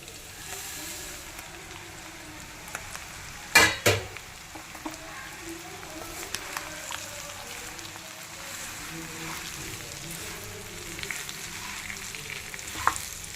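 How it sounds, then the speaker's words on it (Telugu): Flattened rice fries in a pan with a soft continuous sizzle, while a spoon stirs it, giving a couple of louder clanks early on and light scraping taps throughout. "ఇప్పుడు అటుకుల్ని యాడ్ చేసేస్తా."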